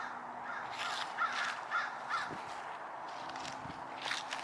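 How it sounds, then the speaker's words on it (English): Crows cawing while feeding among the graves of a hundred-year-old cemetery, three distinct caws in a steady rhythm at moderate distance over faint background noise, with a couple of soft thumps. "Birds are feeding."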